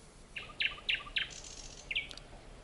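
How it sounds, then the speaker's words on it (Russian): Nightingales sing evening trills on a cool evening, a few short bright chirping bursts repeated at uneven intervals, moderately close over a quiet background. "Соловьи начинают вечерние трели."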